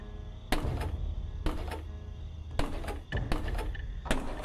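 Drawers slide open and shut with a series of sharp wooden knocks and rattles, about five separate bursts at an uneven pace, close and fairly loud, in the burglary game Thief Simulator.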